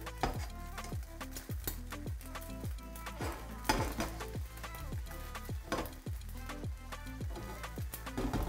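A wrap frying in a frying pan sizzles steadily, with a regular run of close scraping and clinking strokes from utensils against the pan.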